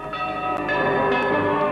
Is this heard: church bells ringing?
yes